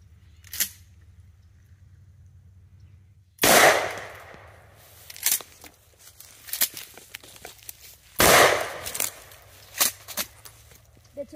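Leftover fireworks being set off outdoors, several sharp bangs and crackling pops spaced irregularly, two much louder close blasts standing out among fainter snaps.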